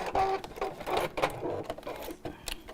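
A sewing machine stitches a fabric wiggly weave bag in short, uneven bursts of mechanical whirring and clatter, close by, with pauses between runs.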